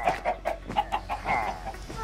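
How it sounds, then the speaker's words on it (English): Chickens clucking in Minecraft, a series of short, evenly spaced clucks, fairly close and alone with no talk. "I hear chickens."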